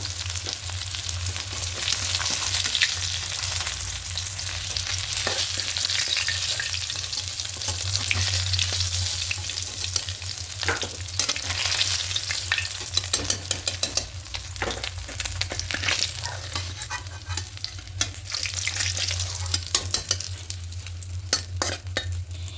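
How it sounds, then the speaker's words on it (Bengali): Pieces of katla fish, already turned, frying in hot oil in a pan, with a continuous crackling sizzle and occasional sharper pops and spatters throughout, no voices. "মাছগুলো সব উল্টে নিলাম এগুলো ভাজা হয়ে যাচ্ছে একটু একটু করে"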